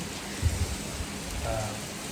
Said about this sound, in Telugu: ఇంకా వర్షం స్టార్ట్ అయిందనమాట ఫుల్ వర్షం పడుతుంది